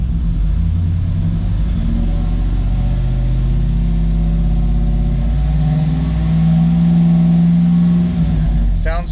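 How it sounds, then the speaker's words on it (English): A 2005 Hummer H2 with a 6.0L LQ4 V8 runs close by, a heavy continuous rumble with a slight rev swelling near the end, with faint voices under it. "let's take a listen to that motor."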